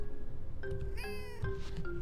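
A cat meows in the farming life-sim video game Fields of Mistria, two or three clear, close, drawn-out meows over a soft steady background, with no speech.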